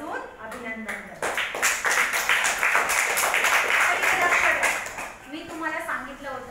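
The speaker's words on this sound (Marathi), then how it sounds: "टाळ्या वाजवून अभिनंदन करते." Children clap together at a Children's Day school event, a dense burst of applause that rises quickly, holds for several seconds and then fades, with a voice speaking before and after.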